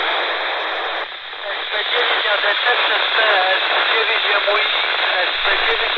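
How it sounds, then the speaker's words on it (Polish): A faint radio transmission on a Quansheng UV-K5 or Yaesu FT-4X handheld buried in steady hiss and static, a barely readable voice fading in and out under the noise throughout. "Modulacja jest taka trójeczka słaba, jest to w szumach"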